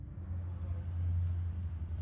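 A car engine idling low and steady right after the key is turned in Pune, a close, continuous rumble that holds evenly for about two seconds with no talk over it.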